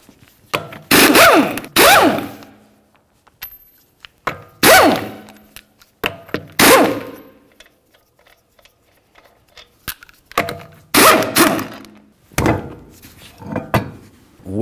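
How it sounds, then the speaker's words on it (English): Five 22mm lug nuts and a rear wheel come off a 2013-2015 Chevrolet Malibu: a run of separate metallic clunks, scrapes and rattles in uneven bursts, close and moderately loud, with quiet gaps between handling sounds. "continue on to removing all five of your 22mm lug nuts and then the wheel"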